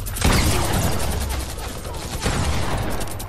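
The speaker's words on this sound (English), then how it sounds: "this fucking shotgun rips like hell" Pump shotgun in the Fortnite battle royale video game, firing as a dense run of loud, close gunshot blasts with overlapping bursts and little pause between them.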